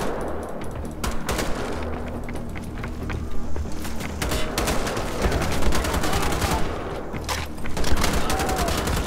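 Sustained gunfire from the video game Wolfenstein: The Old Blood, dense rapid bursts and shots running loud and continuous throughout with no pauses.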